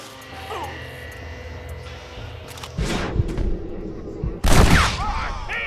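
Gunfire in the Western video game Red Dead Redemption: a few sharp, loud shots cut in over a background game soundtrack and ambience, with a couple of heavy bursts near the end.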